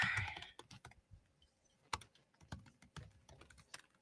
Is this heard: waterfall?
no